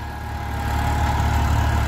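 A Massey tractor engine running steadily at work in a field with its hydraulics in use, a loud, close, continuous low rumble with a slight rise in level.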